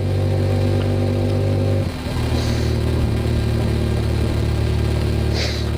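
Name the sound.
motorcycle engine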